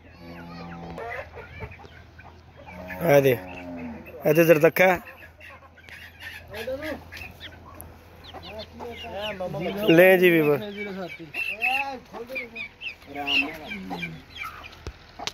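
Hens cluck and a rooster calls in short bursts near the microphone, mixed with people talking throughout, in Gujranwala, Pakistan.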